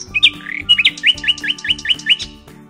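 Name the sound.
nightingale singing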